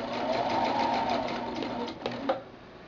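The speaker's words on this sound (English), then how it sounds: "as you sew, pay attention to how far away from the edge of your fabric you want the needle to be" A sewing machine stitches fabric panels for a chair caddy, running in a fast, even mechanical whir up close before slowing and stopping with a couple of clunks.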